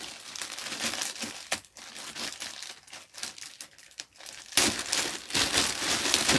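Close, continuous crinkling and rustling of a plastic bag around a Super7 TMNT collectible figure, with sharper crackles and a louder burst of handling near the end.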